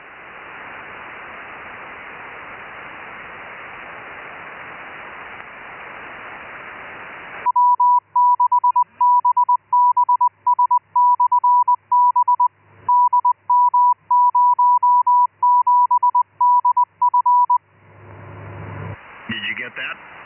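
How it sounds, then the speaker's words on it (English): Repeating beacon tone bursts received over a 70cm amateur radio net, a steady pitched beep keyed on and off in an irregular pattern, clear and loud, framed by hissing radio static before and after. "Frank, he'd like to try and see if he can hear the beacon."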